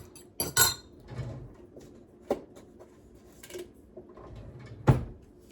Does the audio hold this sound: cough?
no